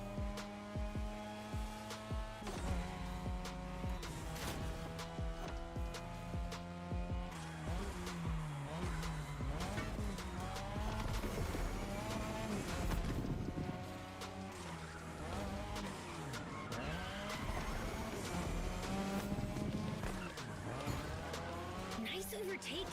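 A race car in The Crew Motorfest on Xbox Series X roars continuously as its engine revs up and down through gear changes, with tire squeals through the turns. Music and a voice sound underneath.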